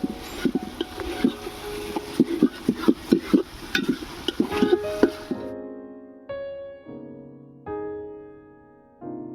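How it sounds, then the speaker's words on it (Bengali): Onion, ginger and garlic paste is stirred in a pan, giving a busy run of scraping, knocking stirs and sizzle. Partway through, the cooking sound cuts out and gives way to a few separate sustained musical tones. "পেঁয়াজ আদা রসুনটাকে ভালো করে কষিয়ে নেব।"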